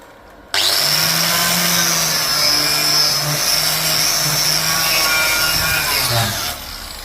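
A power tool grinds or wire-brushes slag off a fresh weld, a steady loud whirring hum that runs continuously for about six seconds before spinning down, with no talking.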